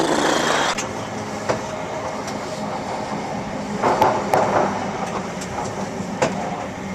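Train runs along rails with a steady rumbling roar and periodic sharp clicks from the wheels over joints, close and continuous.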